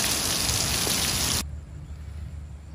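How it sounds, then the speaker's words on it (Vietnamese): Heavy rain pours down at an abandoned factory in the early morning, a dense steady hiss that suddenly drops to a softer patter halfway through. "chuẩn bị đi thăm câu thì trời đổ mưa nha các bạn"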